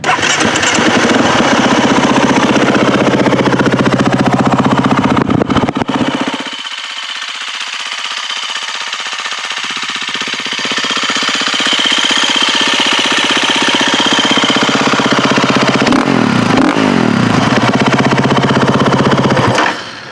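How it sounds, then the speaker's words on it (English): A 2016 KTM 350 XC-F dirt bike engine running loud and close with a harsh, rapid four-stroke rattle, dropping to a quieter idle partway through before revving back up to a sustained roar. "I'll let you hear it run."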